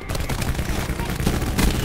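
The Swordfish gun in Black Ops 4 firing a dense, continuous stream of loud, close shots with no pauses between them.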